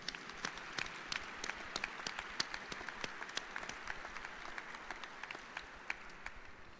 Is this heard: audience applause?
yes